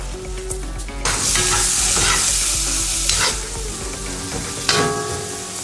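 Chopped onions dropped into hot oil in a pot for mastava soup, erupting into a loud, close, continuous sizzle with occasional stirring scrapes, following a quieter opening second.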